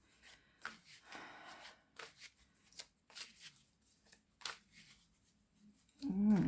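Tarot cards being shuffled in a series of quick riffling bursts, close and fairly quiet, ending with a louder thump of handling.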